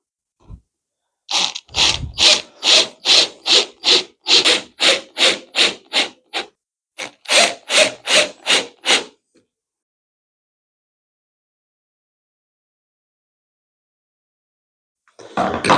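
A screwdriver turning a screw into wood to fit a door hinge, a series of rhythmic rasping twists in two bursts separated by a pause, close and alone.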